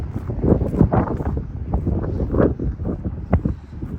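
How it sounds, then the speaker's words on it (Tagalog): Strong gusts of wind buffet the microphone during an outdoor walk along Bow Trail, with uneven bursts of low roaring rumble that swell and fade irregularly. "Lakas ng hangin guys."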